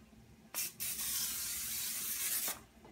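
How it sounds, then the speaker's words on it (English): Canola oil non-stick cooking spray hisses from a can in a kitchen, with a brief puff followed by a sustained close spray of about two seconds. "Spray that boy up."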